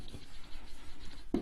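Brief quiet scratching of writing on a board during a health lesson, soft irregular strokes close by with a slightly firmer stroke at the end.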